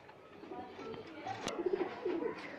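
A male pigeon being held on a rooftop coos in soft, throaty bursts in the second half, with a sharp click partway through and quiet background noise.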